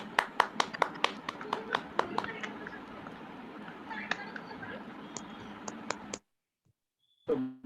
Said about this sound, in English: let's give a round of applause to author Sherry sir